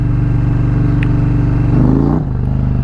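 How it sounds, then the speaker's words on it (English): A 2022 Indian Challenger Elite motorcycle engine pulls hard under acceleration, a loud, throbbing low roar that climbs in pitch, then drops sharply as the rider eases off near the end, ridden in the rain. "Such a torquey engine."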